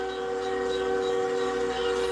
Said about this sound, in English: That's a locomotive, y'all.